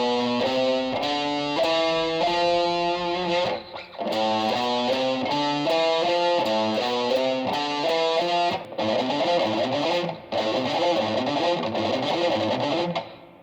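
Distorted electric guitar alternate picking a fast, even run of notes, down-up across the strings, with brief pauses between repeated phrases.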